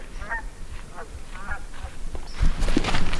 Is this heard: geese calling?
yes